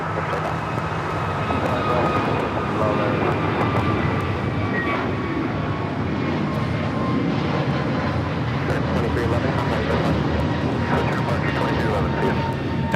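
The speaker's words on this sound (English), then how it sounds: "That is American Airlines 2311 taking off to Miami, Florida on the A321neo" An American Airlines Airbus A321neo takes off at LAX with a steady, loud jet roar that holds evenly for the whole stretch, broad and rumbling with no break.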